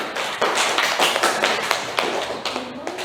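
Classmates in a school classroom applaud, a lively, dense patter of clapping with occasional louder individual claps, continuing steadily without talk.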